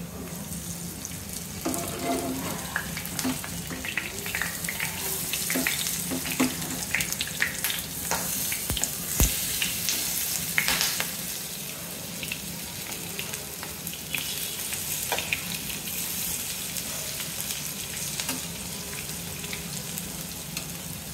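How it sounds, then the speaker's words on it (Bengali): Mashed red lentil fritters deep frying in oil for an evening snack, a steady bubbling sizzle with scattered crackles and occasional stirring clatter, close and continuous with no talking. "ভাজবো, কড়কড়া করে ভেজে নেব।"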